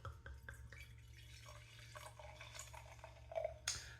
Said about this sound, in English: Let's pour it into this glass.